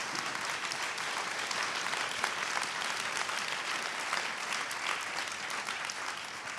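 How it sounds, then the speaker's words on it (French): Sustained applause from a conference audience, dense and even clapping from many hands that holds steady throughout, with no voices over it. "Vous pouvez l'applaudir."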